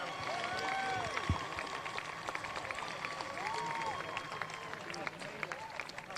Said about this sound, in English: Please, a big round of applause for our winner, Taylor Spackman, as she makes her way up.